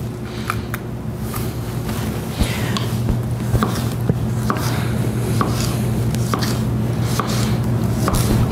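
A knife chops green peppers on a cutting board, making repeated sharp, close taps at an uneven rhythm over a low steady background hum, with no talking.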